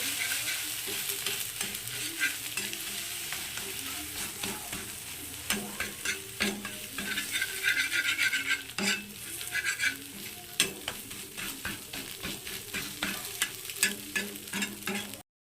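Beaten, salted egg is stir-fried in a pan, with a continuous close sizzle under constant scraping and stirring strokes of a spatula that run for the whole stretch.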